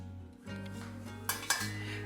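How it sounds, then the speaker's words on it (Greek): A small metal cooking pot is handled in a kitchen, with soft scraping and two sharp clinks of metal against metal over a faint steady hum; no one talks. "Παίρνω μια μικρή κατσαρόλα"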